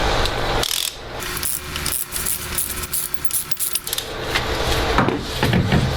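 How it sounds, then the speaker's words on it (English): A ratchet fitted with an extension backs out a spark plug on a BMW N55 engine, its pawl clicking in rapid bursts and pauses close by, with a few soft knocks of the tool along the way. "use your ratchet to extract the plug"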